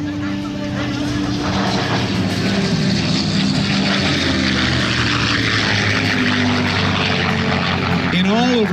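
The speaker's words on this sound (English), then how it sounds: "Here comes the Mustang." A P-51 Mustang propeller fighter flies past at the 2022 NAS Jacksonville Air Show, its piston engine a continuous rumbling drone that holds steady at moderate distance and swells slightly toward the end, with no voices over it.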